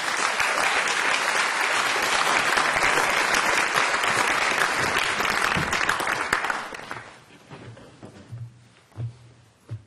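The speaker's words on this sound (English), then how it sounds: "Please give him a big round of applause." Audience applause at an architecture symposium on prefab building fills the room for about seven seconds, steady and full, then thins out into a few scattered claps and fades.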